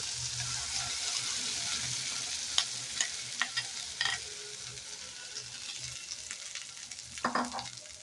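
Green pea paste is fried in a kadai with cumin powder, a continuous quiet sizzle broken by scattered clicks and scrapes from stirring with a spatula.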